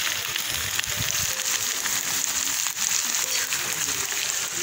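Onion, fenugreek and ginger sizzle while being tempered in a frying pan, giving a steady, close hissing crackle that holds level throughout.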